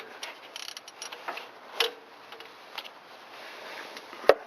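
A ratchet with a 3/8 socket loosens a spark plug on a Toyota Alphard 2.4 engine, giving faint scattered clicks and a few sharp metallic snaps, with one loud crack near the end, in a quiet workshop.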